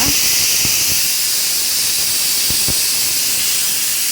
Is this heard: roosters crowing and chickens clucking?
no